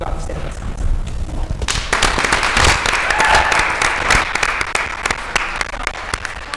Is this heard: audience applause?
yes